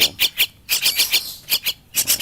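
A Javan myna gives a rapid series of loud, harsh squawks and chattering calls, close and alone, in bursts with brief pauses.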